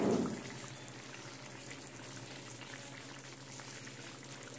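A brief pour of kewra water over biryani meat cooking in a pot gives a short liquid splash at the start, then a soft, steady bubbling simmer continues quietly on its own.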